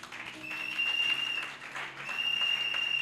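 A church congregation applauds in sustained, fairly loud clapping that swells, dips briefly, then picks up again, with a thin high whistling tone running over parts of it.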